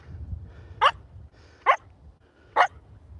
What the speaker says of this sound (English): Hey, why are we barking?